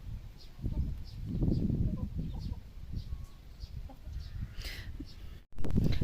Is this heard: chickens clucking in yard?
yes